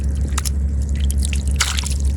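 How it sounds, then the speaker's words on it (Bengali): A large giant freshwater prawn flips and splashes in a fishing catch at night in the Sundarbans, making a few sharp wet slaps and squishes. A steady low engine drone runs underneath. "এখানে দেখুন বেশ বড় সাইজের একটা গলদা চিংড়ি, সে কত সুন্দরভাবে লাফাচ্ছে।"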